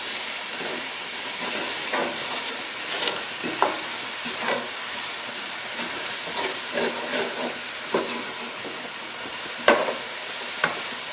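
Onions and spinach sauté in a hot pan with a constant loud sizzle and hiss, broken by occasional scrapes and taps of a stirring utensil, close up and without speech.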